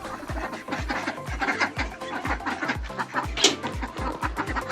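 Ducks being moved between cages fill the scene with busy, overlapping quacks and clucking calls, close and continuous, over rustling movement.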